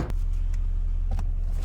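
A Honda Civic EG hatchback engine runs at a steady close rumble as the car pulls away, with a couple of faint knocks near the end and no talking.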